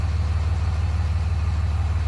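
A lifted Cummins 5.9L diesel truck idles after a cold start with a deep, loud, evenly pulsing rumble that holds steady throughout, with no voices.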